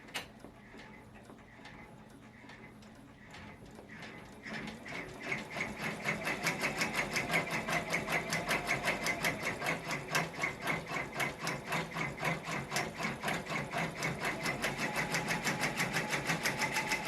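A sewing machine stitches yarn appliqué onto a sweatshirt. It starts quietly with a few soft taps, then settles into a loud, steady, rapid mechanical rattle of needle strokes that continues alone.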